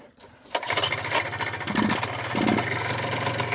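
Tecumseh 139cc two-stroke engine on a CVT motorized bicycle starts up after a brief quiet moment and settles into a steady, loud, buzzing run close by, with a few revs rising over the drone.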